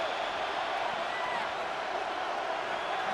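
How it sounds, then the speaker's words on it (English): A Buffalo stadium crowd in an XFL football video game gives off a dense, steady roar of massed voices and cheering, loud and continuous throughout the short stretch. "The Buffalo crowd being heard before third down."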